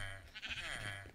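A single wavering sheep bleat from the Minecraft video game, clear and fairly quiet, with no talking over it.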